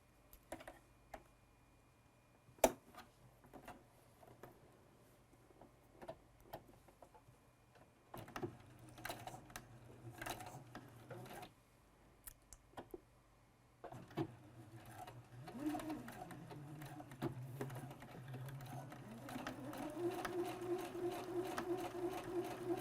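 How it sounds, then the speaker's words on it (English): Domestic sewing machine stitching a straight seam along a factory-finished edge of a make-up remover micro-mitt, heard as bursts of close mechanical whirring and clicking separated by quiet pauses, building to a steadier run near the end. "Now I'm going to stitch a straight line down this side that's been already finished by the manufacturer"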